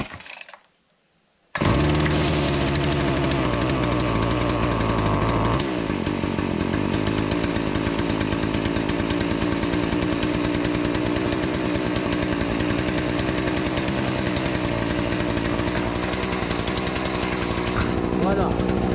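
A Stihl FS 40 string trimmer's small two-stroke engine bursts into life after a short pull and runs on loud and steady at a high, buzzing idle that sits a bit too high, with a slight dip in pitch partway through.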